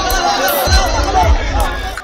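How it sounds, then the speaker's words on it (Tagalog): Crowd of cockfight spectators at an illegal street tupada shouting and chattering together in a loud, continuous hubbub, voices overlapping throughout with no single speaker standing out. "Reklamo nila araw-araw ang hiyawan ng mga sabungero sa gawing sulok nito."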